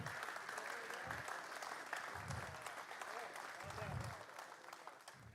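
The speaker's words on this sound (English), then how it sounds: "Give him a round of applause, everybody." An audience at a Star Citizen esports showcase claps continuously in a steady wash of applause, while someone talks over it with low, intermittent speech.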